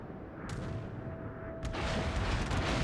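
Incoming naval gunfire in a warship video game, deep rumbling booms with two sharp cracks of shell impacts over a constant low roar, fairly loud and close with no talk.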